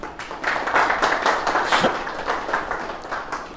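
An audience applauds to welcome Ustad Sonu Dar at a master-disciple ceremony, a dense, continuous patter of many hands clapping close by that swells and then eases slightly.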